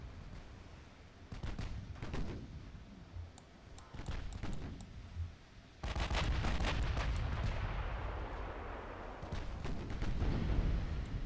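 Naval guns in the warship game Ultimate Admiral Dreadnoughts fire in irregular booming volleys, with sharp reports and rumbling blasts clustering together, then a heavier sustained barrage of shots and impacts near the end.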